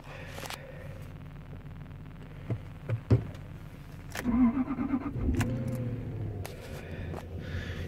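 A 2004 Jaguar XJ8 Vanden Plas engine cranks and catches on a cold start, then settles into a rough idle, with a few clicks and clunks around it; fairly quiet and close.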